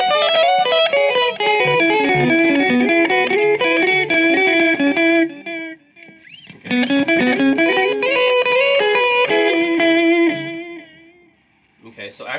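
Electric guitar played through a Catalinbread Belle Epoch echoplex-style delay pedal with all knobs up except echo sustain, loud chords and notes smeared with repeating echoes and chorus-like wobble, pausing briefly midway and trailing off at the end.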